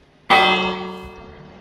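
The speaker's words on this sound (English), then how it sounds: "You ring a bell once a villager's been hurt." A village bell in the Minecraft video game is struck once, giving a single bright clang that rings on and slowly fades over about a second.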